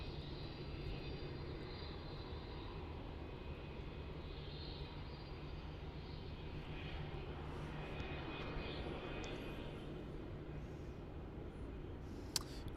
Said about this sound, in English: So that's Qantas Flight 133, the Boeing 737-800 off to Christchurch in New Zealand. Now rolling down runway 16.